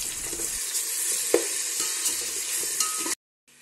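Masala with chopped tomatoes frying in a pan, a dense continuous sizzle with a few stirring clinks and scrapes, close and steady before stopping abruptly.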